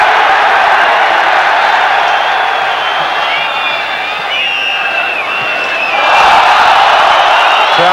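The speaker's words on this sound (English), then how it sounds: "Crowd calling for everything now" Football stadium crowd at a 1996 UEFA Cup match between Olympique Lyonnais and Nottingham Forest, a loud, continuous roar of calling and cheering that dips briefly and then swells again, with no clear words spoken over it.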